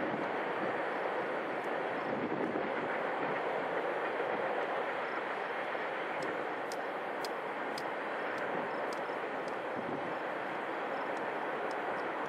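A steady, broad roar of a passing Union Pacific freight train with a mid-train helper locomotive fills the stretch, with faint metallic clicks and squeals from the wheels on the rails.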